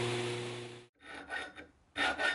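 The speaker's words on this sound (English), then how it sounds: "And I'm just using a chainsaw file here." Chainsaw file rasping a sharpening choil into a handmade knife blade in a knife shop, close and fairly loud, in short bursts of rhythmic back-and-forth strokes separated by brief pauses.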